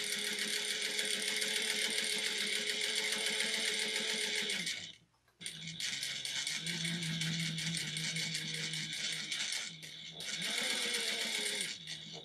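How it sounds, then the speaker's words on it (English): A sewing machine runs in long, steady bursts stitching a fabric holiday stocking seam, close and loud, pausing briefly twice before starting up again. "we're gonna sew this together with a 1/2 inch seam allowance"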